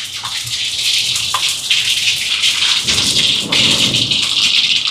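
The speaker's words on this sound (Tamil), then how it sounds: "எண்ணெய் சூடாகிட்டு கடுகு சேர்க்குறேன்" Mustard seeds, with fennel following, crackling and spitting in hot oil while tempering a lentil dish for a charity meal in Sri Lanka. The sizzle is dense, loud and continuous, and sharper pops burst through it all the way.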